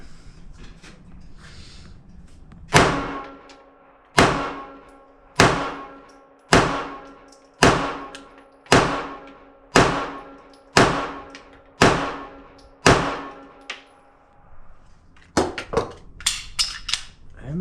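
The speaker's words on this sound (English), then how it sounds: "Here we go. 10 shots in each magazine." Ruger Security 380 pistol firing S&B 95 grain full metal jacket rounds outdoors: ten loud, sharp shots in a steady rhythm about a second apart, each ringing out, followed by a quicker cluster of shots.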